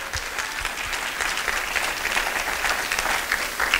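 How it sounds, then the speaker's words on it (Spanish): A church congregation claps steadily throughout, a dense, moderately loud round of applause filling the room with no talk on top. "Gracias por el aplauso"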